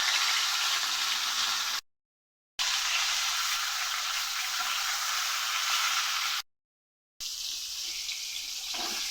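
Fish fries in a pan in a home kitchen with a loud, steady sizzle. The sizzle breaks off twice in brief silent cuts and resumes at a similar level.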